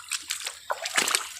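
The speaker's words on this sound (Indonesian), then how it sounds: "Bang Miun sedang melakukan proses penyiraman" Water splashes onto cucumber plants during watering in a field, heard as short irregular bursts of spattering and sloshing, close and fairly crisp, with no talk.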